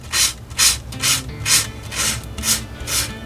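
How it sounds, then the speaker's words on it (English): Hand sanding a wooden board for a garage build, seven steady back-and-forth rasping strokes in an even rhythm, close and clear with no talking. "sand the other half down."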